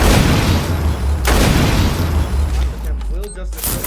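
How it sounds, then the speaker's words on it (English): A big grenade goes off in a Rainbow Six Siege match, heard as a loud close boom with a deep rumbling tail, followed by debris rattle and scattered clatter while a voice talks over it. "Going to be Tossing in a big grenade."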